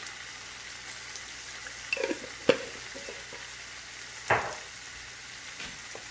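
Whole cumin seeds sizzle quietly in hot tempering oil for dal makhani, a soft, low hiss broken by a few louder crackles and spoon clinks.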